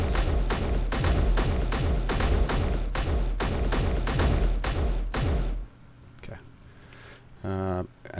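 Automatic gunfire in the Space Engineers video game, a loud rapid burst of repeated shots lasting several seconds, then stopping, followed by quieter mechanical game sounds and a short buzzing tone.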